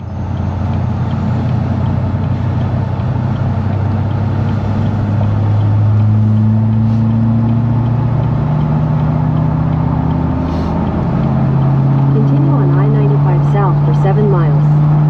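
A truck driving on the road, its engine droning loudly and steadily for the whole stretch, with shifting tones as it moves and road and wind noise close around.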